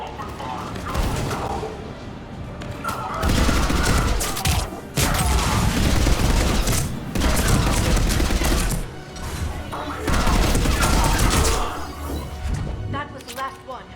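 Sustained gunfire in a science-fiction firefight from the video game Mass Effect 3, loud dense bursts of automatic weapons fire with booms, broken by short lulls.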